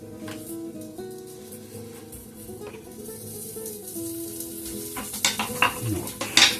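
Tomato frying in a pan, a steady sizzle with stirring and scraping that grows louder and more clattery toward the end, no talking.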